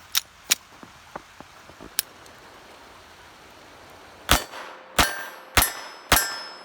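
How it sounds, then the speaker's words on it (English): Shots from a CZ Model 27 pistol firing .32 ACP rounds: several faint, spaced metallic clicks, then four loud, sharp reports spaced about a second apart, each ringing briefly. "So let's go ahead and put another mag through it here."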